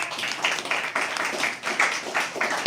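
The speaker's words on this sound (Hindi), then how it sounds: "अब तालियां उठाना शुरू कीजिए" An audience at a stand-up poetry event claps, producing a brief run of moderately loud applause with rhythmic swells.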